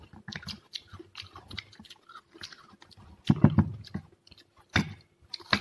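Someone chews kedondong fruit dipped in chili, crisp wet crunches and bites in an irregular rhythm, close to the microphone, with louder bursts of crunching toward the end.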